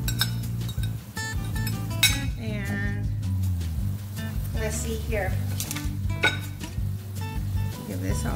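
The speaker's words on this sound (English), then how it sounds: "Give this all a good stir." Steak and mirin being stirred in a pan at home: a steady clinking of a utensil against the pan mixes with faint sizzling, and a voice talks at times over the sound.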